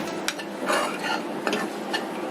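A spoon scrapes and stirs masala roasting in oil in a pan for arbi sabji, irregular close scraping strokes over a steady soft sizzle.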